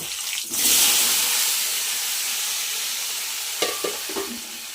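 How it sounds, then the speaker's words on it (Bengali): Pointed gourd and potato pieces dropped into hot oil already used for frying fish give a loud burst of sizzling that settles into a steady hiss, followed near the end by a few scraping stirs. "দেখুন বন্ধুরা আমি এই তেলেই সুন্দর করে ভেজে নেব।"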